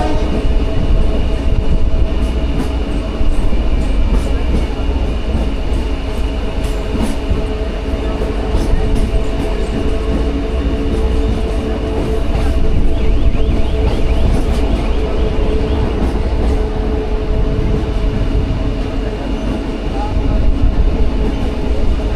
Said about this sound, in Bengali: আমাদের ট্রেন ঢুকছে কাঁথি স্টেশন।